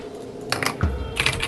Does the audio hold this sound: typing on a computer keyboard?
yes